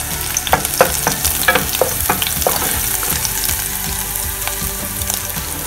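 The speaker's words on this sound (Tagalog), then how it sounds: "So, mainit na ang ating mantika. Igisa lang natin yung bawang." Garlic sautés in hot cooking oil for pineapple chicken, crackling loudly and close with scattered pops and stirring taps throughout.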